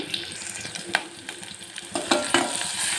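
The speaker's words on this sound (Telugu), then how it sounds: "ఆయిల్లో కొద్దిగా ఆనియన్స్ అయితే మగ్గనివ్వాలండి" Onions softening in oil in a pan, with a continuous sizzle broken by sharp scrapes of a spoon stirring. The scraping grows louder and busier toward the end, and no one speaks.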